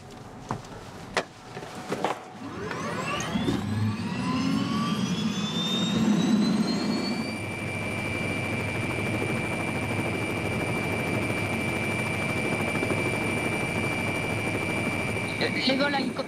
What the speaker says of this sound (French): L'hélicoptère sanitaire du SAMU 13 est celui qui effectue le plus de vols de nuit en France.